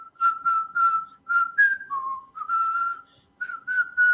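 A person whistles a tune alone, clear and close, with steady sustained notes in short phrases, a brief sliding dip in pitch midway and small gaps between phrases.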